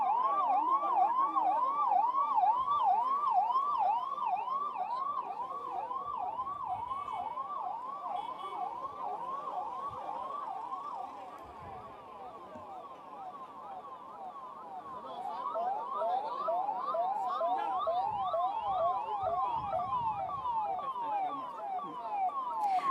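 Ambulance sirens wail continuously from a fleet of emergency ambulances at a launch event, several overlapping sweeping tones at moderate distance with a faint crowd murmur beneath.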